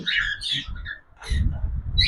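Semi-adult cockatiels give a few short, bright chirps in quick bursts, fairly close, with a low rumble of room noise underneath.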